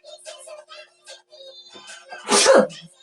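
A single loud sneeze bursts out near the end in a home kitchen while chicken rolls are prepared, preceded by a stretch of quiet talk.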